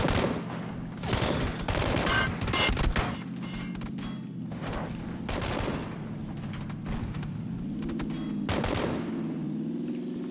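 Bursts of rapid gunfire crack repeatedly over a steady low hum, loud and close, with several volleys spread across the stretch during combat in the video game PUBG: Battlegrounds.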